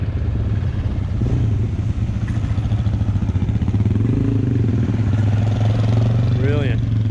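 Several Suzuki DRZ 400 motorcycles pull up on a tour, with a steady engine rumble running throughout and a brief rising whine near the end as one revs nearby.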